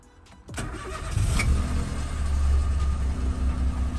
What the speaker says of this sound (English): let's get this car started. Hopefully it starts.